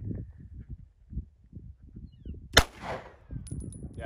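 A single sharp gunshot cracks out at a skillet target outdoors, loud and sudden, followed by a brief fading ring, with rustling and shuffling before and after.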